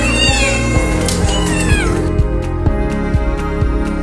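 Stray cats meow repeatedly and loudly at close range over a steady low hum, with drawn-out, wavering cries and a few overlapping calls.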